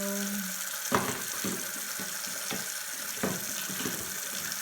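Water runs from a tap to rinse off spray nail polish, a steady close splashing stream broken by a few louder splashes, with no talk.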